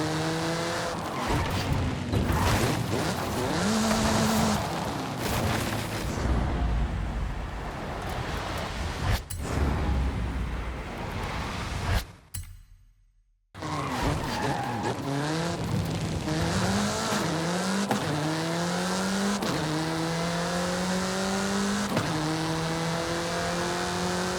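Car racing at speed in the driving game Forza Horizon 5, a loud engine revving and shifting through gears with squealing tyres, broken by a brief silent gap before acceleration resumes.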